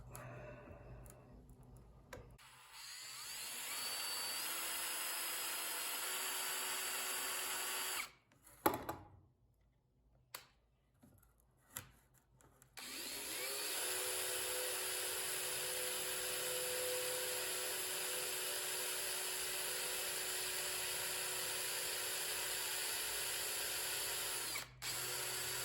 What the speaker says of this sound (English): Funny how something so soft takes so much force to drill.